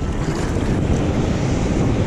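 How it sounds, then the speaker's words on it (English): Ocean waves roll in at Avila Beach, California: a loud, continuous surf roar mixed with heavy wind buffeting the microphone, with no voices. "the waves are going to come in sets"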